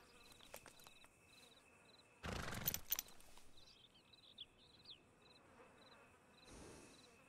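Faint, steady buzz of flies over a dead bison out on the open plains in Red Dead Redemption 2, with soft chirps nearby and a brief louder rustling burst partway through; no voices.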